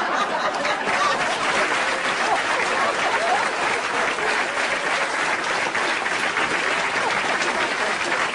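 A comedy show audience in Hungary claps in sustained, even applause, a thick wash of many hands that holds steady and loud for the whole stretch.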